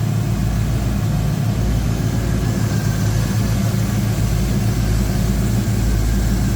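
A 1941 Chevrolet street rod's 350 small-block V8 with an Edelbrock four-barrel carburetor and HEI ignition idles steadily and smoothly, a continuous low rumble heard up close with no talking.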